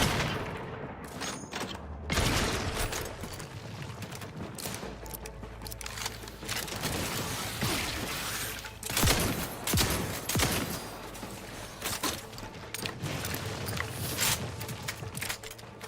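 Gunfire against a tanky enemy in the video game Outer Worlds 2, with bursts of rapid shots and booming impacts repeating over a mechanical background, loud and sustained throughout.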